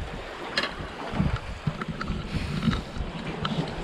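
An outboard boat engine being started and revved on a fishing boat off Salalah, Oman, a steady rough motor rumble with wind and water noise throughout, close and continuous.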